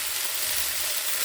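Potatoes and half an onion frying in oil in a pan, a steady close, loud sizzle throughout with no pauses.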